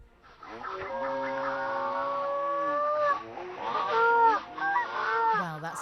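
A seagull call pitched far down into a deep, drawn-out honking roar, several sustained wavering cries in succession, loud and close with no talk over it.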